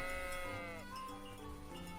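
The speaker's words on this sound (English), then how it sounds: "Look out! Sheep." Sheep bleating in the medieval video game Kingdom Come: Deliverance: a drawn-out, wavering bleat over a steady backdrop of game ambience, fairly faint.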